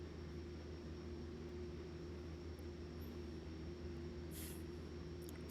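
A Pilatus PC-12 turboprop taxiing in X-Plane 11 gives a steady, droning engine hum with a constant tonal whine, loud and unbroken throughout, with no voices.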